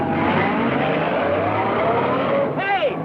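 A car driving off in a 1940s Western setting, its engine a steady loud drone throughout, ending in a short rising whine near the close as voices carry over it.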